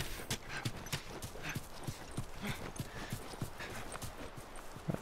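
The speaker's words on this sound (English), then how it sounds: "Where'd our horses go?" Horse hooves clip-clop steadily in The Last of Us video game, a rhythmic run of close, even hoofbeats with a faint whinny mixed in.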